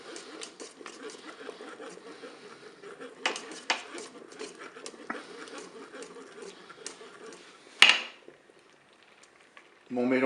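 A spoon scrapes and clinks against the bowl of a Cookeo multicooker while a cookie cream dessert is stirred, with soft intermittent scraping and a sharp knock near the end, under quiet talk.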